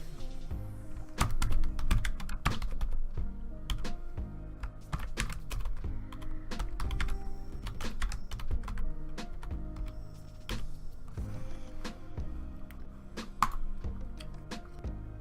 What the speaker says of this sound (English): go ahead and type in what you want to type for your title on your video